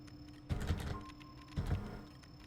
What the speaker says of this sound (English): I like the new keyboard sounds, by the way.